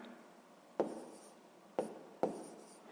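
A pen or pencil writing out a sixth-grade fraction division problem on paper, heard as three distinct scratchy strokes spaced about a second apart, each quickly fading, close and quiet with no talk.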